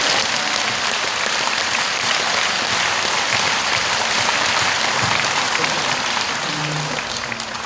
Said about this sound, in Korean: 박수로 주님께 영광 돌립니다.